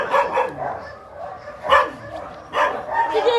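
A small dog yips and barks in short sharp bursts, close by, with a person's voice mixed in.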